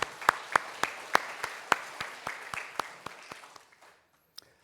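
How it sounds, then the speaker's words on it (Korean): A church congregation claps in unison, a regular beat of sharp, distinct claps, about fourteen in a row, that slows and weakens before stopping, with one last stray clap. "우리 하나님께 영광의 박수를 올려드립시다."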